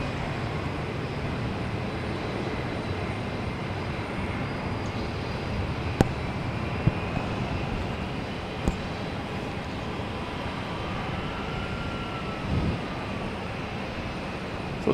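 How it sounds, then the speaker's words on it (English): A Southwest Boeing 737 MAX 8 takes off at Boston Logan Airport toward Baltimore, a continuous loud jet engine roar that holds steady throughout, with a few faint clicks and knocks close by. "Next to take off, let me see anyone coming in. Nobody coming in, so we have a Southwest heading to Baltimore. 737 MAX 8."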